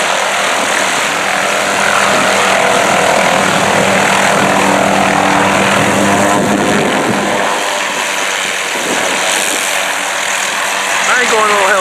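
A helicopter flies overhead at Niagara Falls with a loud, steady rotor and engine roar that swells and fades across the scene. Voices are also present.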